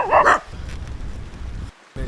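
Two large dogs bark close by, a couple of sharp yaps at the start, then a low rumbling background with a brief bark again at the end.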